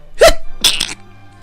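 A character in Dragon Quest 9 lets out a short sneeze, a sharp burst followed by a second breathy release, close and clear against a faint background.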